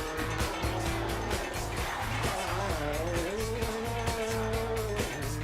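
Rally cars race past spectators on the roadside, loud and close. Engines rise and fall in pitch and tires squeal steadily, with voices faintly mixed in underneath.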